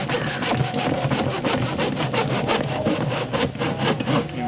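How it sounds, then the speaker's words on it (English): A hand saw cuts through wood in quick, regular back-and-forth strokes, each stroke a rasping burst, close up and steady throughout while building a potato tower. "line up the marks with each other and just start sawing away"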